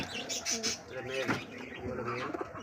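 Soft, throaty pigeon coos repeat close by, with light chirps and a faint flutter in the background.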